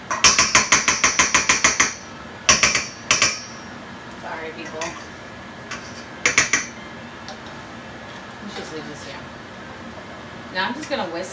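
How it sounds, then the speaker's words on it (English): A whisk beats Spanish eggnog until creamy, clattering rapidly and rhythmically against the bowl in a fast run of strokes, then in shorter bursts separated by quieter pauses. "Now I'm just gonna whisk it until it gets creamy"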